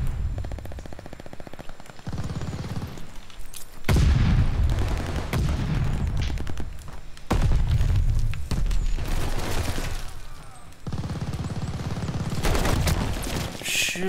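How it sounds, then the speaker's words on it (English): Sustained close gunfire in the video game Call of Duty: Vanguard, dense automatic bursts with heavy booming impacts recurring across the whole stretch, loud and continuous. "I don't know where I'm getting shot from."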